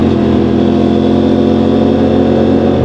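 Aprilia RS457 motorcycle engine holding a loud, steady high-rev drone close by, continuous and unbroken throughout with no talk.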